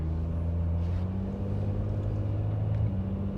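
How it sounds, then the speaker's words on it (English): A 2012 Dodge Caravan minivan with an automatic transmission, at 174,000 miles, drones steadily while driving, with a hum whose pitch steps as the gears change near the end. The sound is loud, close and continuous, with no talking. "Oh, there it's shifting."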